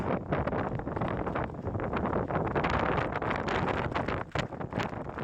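Strong wind roars steadily across an open Appalachian Trail mountain summit, buffeting the microphone with a loud, continuous rumbling rush and no speech.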